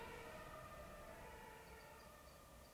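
Ambulance, police and fire engine sirens wailing together in the distance, a faint, steady layered tone that holds for several seconds without pause, with no voices over it.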